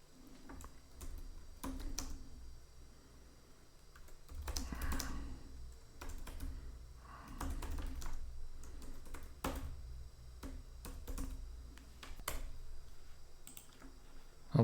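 Typing on a computer keyboard: quiet, irregular bursts of key clicks, some fast runs and some single taps, heard close and alone.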